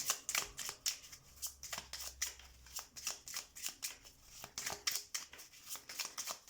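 Tarot cards shuffled by hand, a quick rhythmic run of riffling slaps and flicks at close range, quiet with no talk.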